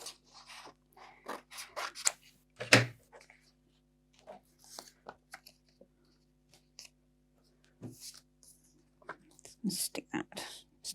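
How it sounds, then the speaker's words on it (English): Scissors cut a paper clue out for a grungy handmade Easter folio craft, giving scattered crisp snips and paper rustles close to the microphone. Soft, whisper-like sounds of handling come in between the cuts. "and then cut the clue out."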